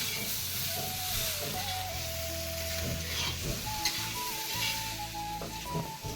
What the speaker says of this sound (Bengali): এখানে রান্না চাপিয়েছে, এই শাকনে শুটি ফুলকপি আলু তরকারি হচ্ছে